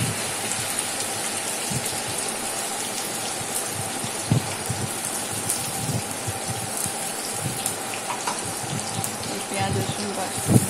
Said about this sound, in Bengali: তেলের মধ্যে পেঁয়াজ রসুন বাটাটা দিয়ে দিলাম